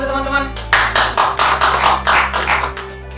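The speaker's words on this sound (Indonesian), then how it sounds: "Beri tepuk tangan dulu teman-teman." A small group of people clapping together in a room, a loud, uneven run of distinct claps at close range after a brief hum-filled pause, slowing and fading at the end.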